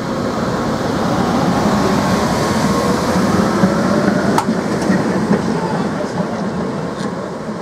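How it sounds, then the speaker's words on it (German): A Tatra tram rolls past with a steady rumble and rail noise, wheels clicking over track joints, fairly close and loud throughout. "Schließlich folgten zahlreiche Tatra-Züge."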